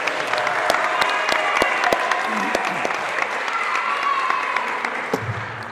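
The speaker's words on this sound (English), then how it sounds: "Can we give one more round of applause for our newest inductees?" Applause from an audience at a National Honor Society induction ceremony greets the newest inductees, a steady crowd clapping with sharp individual claps standing out, continuing throughout at moderate loudness.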